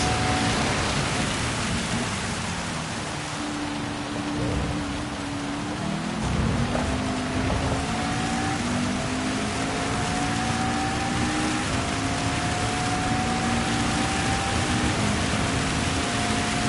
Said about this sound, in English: As you can see, like how torrential the rain is.